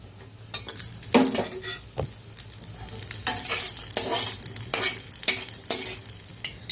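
Dried loitta fish crackles in oil in a pan, with a low sizzle broken by repeated scraping and clinking strokes of a spatula against the metal, close and unaccompanied by speech.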